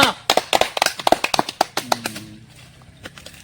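Applause from a small audience: a burst of sharp, close hand claps in quick uneven rhythm that thins out and fades to a few scattered claps.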